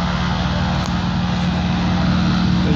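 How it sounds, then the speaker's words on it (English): A steady, deep rumbling engine drone with a low throbbing pulse, loud and continuous throughout, from a Harvard trainer aircraft's piston engine running nearby. "There's no other aircraft that sounds like this."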